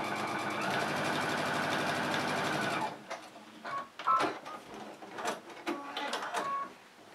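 Sewing machine stitches a curve across quilting fabric in a steady, continuous loud run for about three seconds, then stops, leaving faint handling clicks and rustles.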